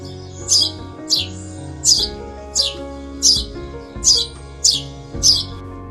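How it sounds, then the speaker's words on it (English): A house sparrow gives repeated bright chirps at an even, regular rhythm, about eight calls in six seconds, close and clear over a soft background of sustained tones. "House Sparrow."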